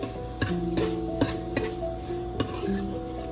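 Onion, garlic and ginger fry in a pan for Punjabi aloo pyaz kadhi, with a steady close sizzle broken by several sharp spoon scrapes and stirring knocks against the pan.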